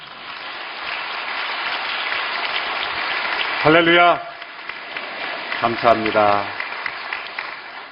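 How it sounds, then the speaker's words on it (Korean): A congregation applauds its pastor during an early-morning special prayer service at a Korean church, a steady patter of clapping that runs under two short spoken phrases. "우리 이재훈 목사님 사랑과 격려의 박수 한번"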